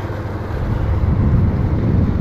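A motorboat grinds through shallow mud after boats run aground, a steady low rumbling roar mixed with wind buffeting the microphone, loud and continuous with no voices.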